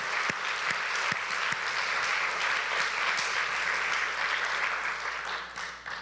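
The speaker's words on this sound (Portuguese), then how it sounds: "Vamos aplaudir ao nosso Deus pela sua fidelidade." A church congregation claps together in sustained, dense applause that holds steady for several seconds and then tapers off at the end.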